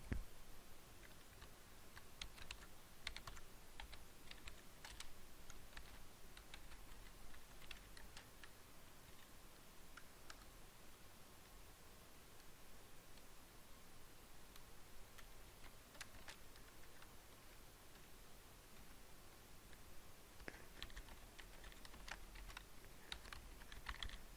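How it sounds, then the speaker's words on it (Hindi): Typing on a computer keyboard, a quiet, close series of irregular light key clicks with short pauses, continuing throughout over faint room noise. "हमने नाम टाइप कर दिया"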